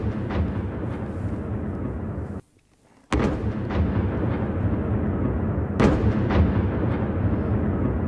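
Heavy booming blasts from a Russian attack on Kyiv at night, a continuous roar of rumbling explosions with sharp cracks, briefly cut to silence and then resuming loud and close.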